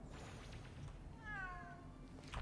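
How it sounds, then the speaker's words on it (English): A cat in a Halloween-themed video game gives a single clear, drawn-out meow midway through, over a quiet low background hum. "There's another cat."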